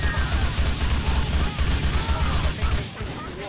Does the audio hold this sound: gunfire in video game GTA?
yes